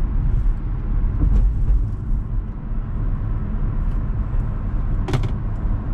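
Steady broadband road and engine noise from a 2021 Chevrolet Trailblazer LT FWD with a 1.3L turbo as it is driven quickly into a curve, a continuous loud cabin drone with a brief sharp transient near the end.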